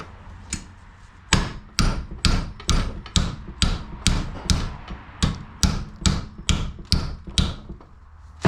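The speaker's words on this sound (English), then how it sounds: "I think I'm going to mark it, heat it, put it in the vise and bend it" A hammer strikes heated metal clamped in a vise to bend it for a jacking point repair on an E36 coupe: about fourteen sharp, loud, evenly spaced blows, close up, with no talking.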